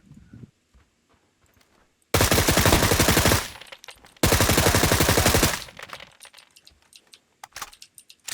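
PUBG gunfire comes in two long bursts of rapid automatic shots, loud and close, each lasting about two seconds. Quieter clicks and scattered single sounds fill the gaps.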